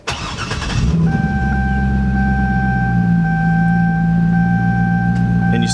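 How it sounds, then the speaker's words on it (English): A Chevrolet C6 Corvette's engine cranks and catches with a loud burst, then settles into a steady, close, rumbling idle with a faint whine over it. "When you start the car"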